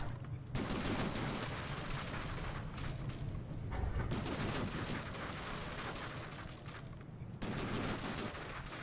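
Ship turrets in a naval combat video game firing in sustained rapid volleys, a dense loud rattle of shots that keeps going almost without pause.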